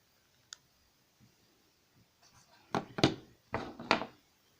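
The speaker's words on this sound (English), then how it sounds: "just bending that with the pliers, as you can see. These are wire bending pliers." Wire-bending pliers working jewellery wire give a few sharp close clicks and scrapes, one early tick and then a quick cluster of louder snaps near the end, with no talking.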